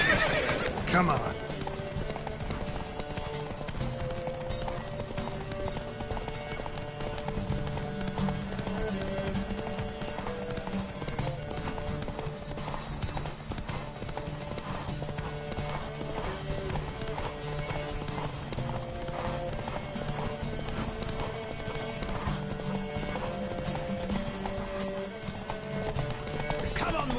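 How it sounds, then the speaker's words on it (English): Galloping racehorse hooves pound continuously in The Witcher 3 video game, loud and close, with neighing mixed in over a dense bed of game music and voices talking throughout. "Don't spare the horse!"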